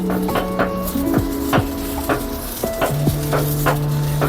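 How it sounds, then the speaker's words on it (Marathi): Oil is spread over a hot iron griddle before making ghavne, bringing a loud, close sizzle and scraping strokes that repeat about once a second, with no talk. "हे बघा बिड्याला असं तेल लावून घ्यायचं"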